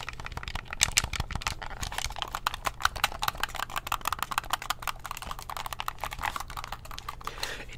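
Rapid clicking of controller triggers and keyboard buttons, a dense, fast, fairly quiet clatter of small plastic taps running continuously throughout with no voices.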